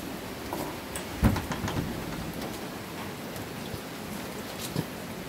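Heavy rain falls in Bisaya while a strong wind blows, a continuous hiss broken by a couple of sharper knocks or gusts, with no voices.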